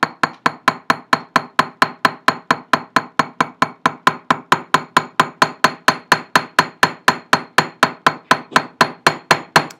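Rapid, evenly spaced hammer blows on a rivet, about four strikes per second, each a sharp close metallic whack with a quick decay, continuing steadily without any talk.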